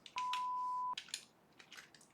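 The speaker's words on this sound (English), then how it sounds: "I think the emulated phone was a nice feature and Mr. Beast's team was really creative wit" Emulated telephone dialing tones: one long steady beep followed by a quick series of short, faint touch-tone blips.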